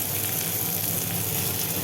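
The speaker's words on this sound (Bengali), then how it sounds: "আলুগুলো কেটে রাখা আলুগুলো ছেড়ে দেবো।" Cut potatoes frying in oil with lightly browned onions for a snakehead fish curry give a continuous soft sizzling hiss, steady and unbroken, with no talking.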